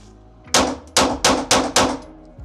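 Five sharp gunshots from a Daniel Defense H9 pistol in quick succession, each followed by a ringing metallic clang of rounds striking a steel target, close and loud.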